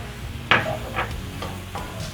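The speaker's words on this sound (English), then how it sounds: "Stir in the salt" Salt being stirred into beef mince in a pan, a few distinct spoon scrapes and knocks spaced about half a second apart over a low background sizzle.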